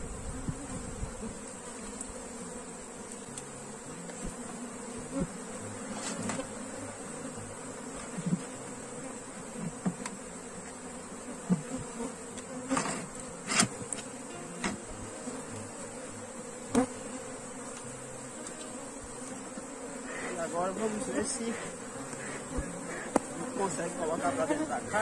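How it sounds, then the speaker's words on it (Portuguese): A swarm of bees crowds into a hive box, a dense, continuous buzz that holds steady throughout, broken by scattered clicks and knocks from handling the box. "é interessante que essas abelhas estejam dentro"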